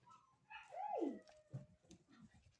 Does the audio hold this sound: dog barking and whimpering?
yes